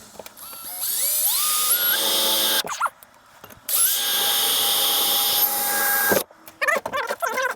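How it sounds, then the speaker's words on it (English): A power drill whines loudly while drilling a hole in metal on a GMC S15, in two long bursts with a brief pause between, its pitch climbing as it spins up, followed by short choppy bursts. "Now I'm going to drill a hole in the center."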